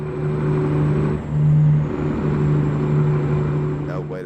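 Caterpillar truck engine in American Truck Simulator, a loud steady low drone that swells briefly in the middle, with a faint hiss near the end.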